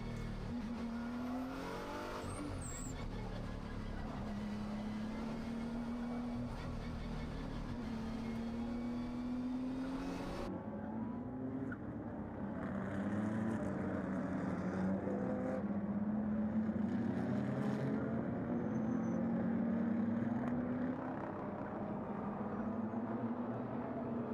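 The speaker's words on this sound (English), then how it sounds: "the safety car comes to lead the cars onto the start finishing straight" Race cars at Fuji trail a Toyota Supra safety car, engines droning and rising and falling in pitch as they pass, a steady, moderately loud pack of motors with no talk.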